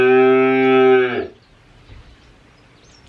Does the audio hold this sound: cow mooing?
yes